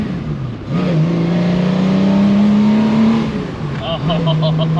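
An old car's engine revs up and holds a steady, rising drone, heard from inside the vehicle, with a brief tonal pattern near the end.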